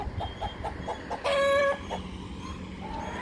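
A rooster crows once loudly and nearby amid scattered clucking hens and outdoor background noise.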